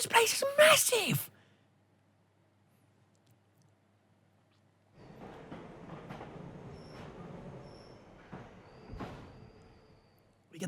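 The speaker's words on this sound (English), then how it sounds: "We get there by train this time instead." Train ride in the Pokémon Sword & Shield video game heading to the Crown Tundra: a soft, steady rumble of rolling rail cars with faint clacks and tones, preceded by a brief loud game sound and near silence.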